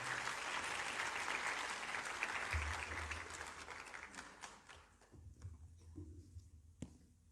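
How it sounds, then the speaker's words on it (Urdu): A church congregation applauds to welcome a preacher to the pulpit at a Christian sermon service. The applause is loud and sustained at first, then thins out and fades over several seconds into scattered claps and room noise. "ہم سب تالیوں کے ساتھ ان کا استقبال کریں گے"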